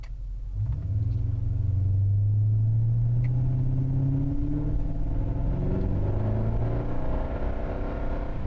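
A Ford Crown Victoria fitted with paddle shifters drives along in drive, its engine holding a steady, loud, low rumble that rises slightly in pitch and then levels off, with no talking.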